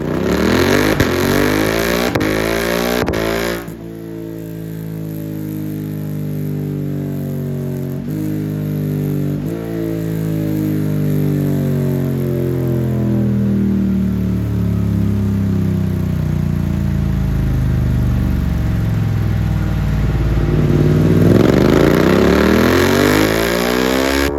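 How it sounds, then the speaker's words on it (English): A Suzuki GSX-8S/8R motorcycle fitted with an Arrow exhaust is blipped loudly several times at close range, then held in long, steady revs that climb and fall, with no talking over it. "Wow, does it have some bark with this Arrow exhaust?"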